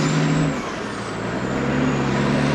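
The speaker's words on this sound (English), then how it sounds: "this sounds like a true, stick shift manual, like the U.S. semi-trucks are as well" An Australian outback road train truck with a manual gearbox rumbles loudly and close at a busy intersection, its deep engine drone steady with a hiss of air brakes and a slight shift in pitch as it moves.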